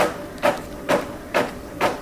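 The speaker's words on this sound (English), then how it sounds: "We added disorientating non-diegetic sounds like high-pitched tones, printer noises," Four evenly spaced mechanical whooshing strokes repeat in a steady rhythm, like a printer carriage sweeping back and forth, over a low constant hum.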